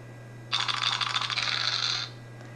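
Dice rattling and clattering in the iZilch phone game, a quick burst of tight clicking lasting about a second and a half over a low steady hum.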